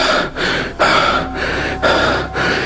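A man who has just woken suddenly pants heavily, drawing quick, loud, close gasping breaths in a steady rhythm of about five pulls within under three seconds.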